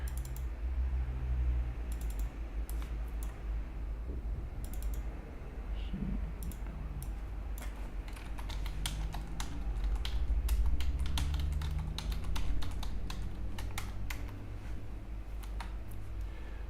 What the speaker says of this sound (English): I'm using a keyboard or a different keyboard, and it's really annoying